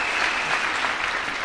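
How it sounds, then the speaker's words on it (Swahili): A church congregation at an overnight prophetic kesha service gives the pastors a warm round of applause, a dense, steady roar of many clapping hands that fills the room evenly and carries no talk. "Tupige mapasta makofi mazuri."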